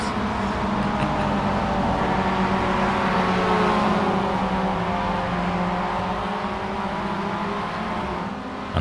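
Race cars in iRacing stream downhill through the corners at Laguna Seca, a dense and steady pack of engines holding a loud, unbroken roar with layered whining tones and no one talking.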